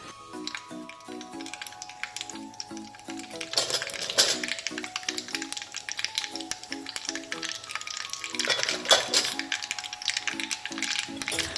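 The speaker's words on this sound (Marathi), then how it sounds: "ही फोडणी छान तडतडली की आपल्याला गॅस बंद करून घ्यायचा आहे" Mustard seeds, cumin and turmeric tempering in two spoons of hot oil, a busy close crackle of rapid pops and sputters over a sizzling hiss, swelling in two louder bursts.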